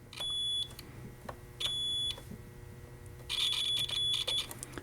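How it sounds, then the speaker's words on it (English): Three short electronic multimeter continuity beeps test a fuse in a battery combiner box, sounding at even spacing, high-pitched and steady, each lasting about half a second against a quiet background hum. "these fuses here, they beeped both ways"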